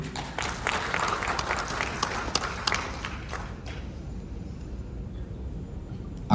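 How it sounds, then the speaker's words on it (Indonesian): Audience applause in a conference hall at a financial regulator's governance and integrity event, a steady patter of clapping that thins out and fades after a few seconds, leaving quiet room noise. "Tepuk tangan dulu."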